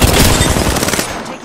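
Rapid automatic gunfire in the battle royale shooter Apex Legends, a dense, loud, continuous burst of close shots lasting about a second before trailing off.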